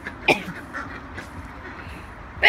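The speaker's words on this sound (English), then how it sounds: "Two pretty little duckies." Pet ducks in a backyard garden give a few short quacks close by, one early and a louder burst at the end, over a low outdoor background with faint sounds.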